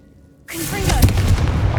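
A Confringo fire spell cast in Hogwarts Legacy bursts in suddenly after near silence, a loud close blast that swells into a sustained roaring rumble with crackling debris.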